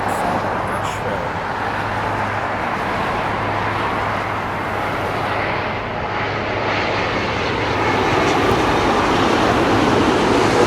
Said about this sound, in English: Dreamliner 787-8. It's coming in from Nashville.